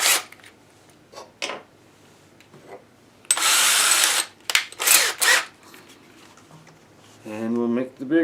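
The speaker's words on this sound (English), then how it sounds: "Now we'll just change out our drill bit." A power drill bores into a plastic bait-bucket lid in two or three short, harsh whirring bursts about a second long each, close by. Someone speaks briefly at the end.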